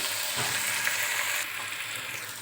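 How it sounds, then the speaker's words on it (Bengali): Steady, close sizzling of spices frying in a hot pan for a spiny gourd (kakrol) dish, a dense crackling hiss that drops slightly in level partway through, with no talking. "মশলাটা খুব সুন্দরভাবে ভাজা হয়ে গেছে"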